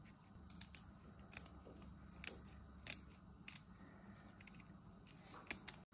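Kitchen scissors snip along the side of a mantis shrimp's shell, a series of faint, crisp clicks and crunches spaced irregularly, close by and quiet with no talking.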